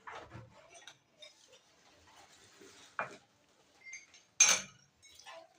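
Food being mixed by hand in a bowl with salt and mustard oil, giving soft scattered squelches and a few sharp clinks against the bowl, quiet and close.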